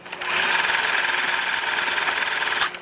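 A sewing machine runs a half-inch seam across the end of a folded sheer fabric collar piece, a steady rapid whir for a few seconds that starts and stops cleanly.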